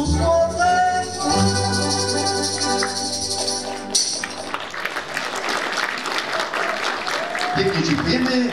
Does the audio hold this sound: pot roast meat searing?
no